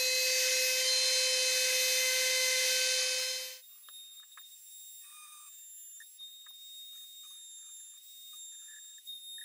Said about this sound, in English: I'm gonna try to run a little bevel right down through here.